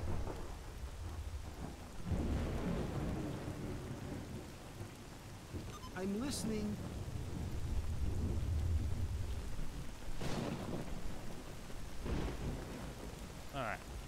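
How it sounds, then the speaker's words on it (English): Rain and a thunderstorm in the game Stalker Gamma: a steady wash of rain with several rolling thunder bursts, loud and continuous, while someone talks briefly over it. "yeah, it's raining now."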